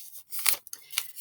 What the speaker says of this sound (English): sorry for the noise of the paper